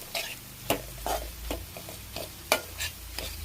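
A spoon stirs thick egg curry masala with onions and tomatoes in a pan, making a series of sharp scraping clicks and brief rustles at an uneven rhythm over a faint sizzle, close and fairly quiet.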